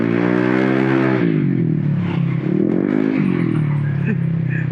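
Honda ADV 160 scooter running after its torque drive bearing was replaced, engine loud and close with rising and falling revs, harmonic whine sweeping upward as it accelerates, with some clatter.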